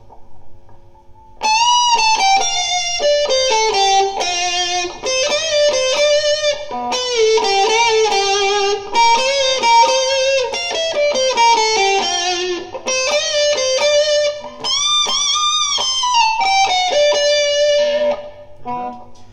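A sustained electric guitar solo with bent, singing notes, played continuously and loudly over a long phrase.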